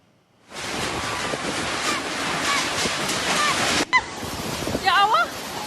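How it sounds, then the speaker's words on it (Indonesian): Heavy rain and strong storm wind in Grobogan, Central Java, roar as a dense continuous wash close to the microphone, with brief voices breaking through near the end. "Hujan deras disertai angin kencang mengakibatkan 8 rumah warga di 2 desa di Grobogan, Jawa Tengah roboh."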